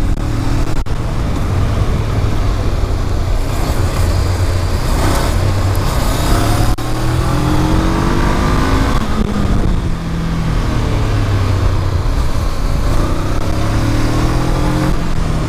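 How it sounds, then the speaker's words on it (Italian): A Honda CB 500 motorcycle revs and rides in close, loud view, its engine note rising and falling repeatedly under heavy wind and road rush, with no talking. "Troppo silenziosa sta moto."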